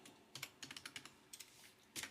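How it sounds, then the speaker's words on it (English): Keys tapped on a computer keyboard in a quick, uneven run of light clicks, close and clear, with a short pause before a final pair of keystrokes. "Let me type that in."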